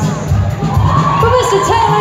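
A concert crowd at a show in Barcelona cheers loudly, with whoops and yells rising over a roaring mass of voices for a couple of seconds.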